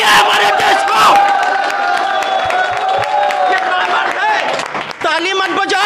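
A crowd in a cinema after a screening of The Kashmir Files roars with loud, sustained cheering and chanting, many voices shouting together close by, with only a little clapping.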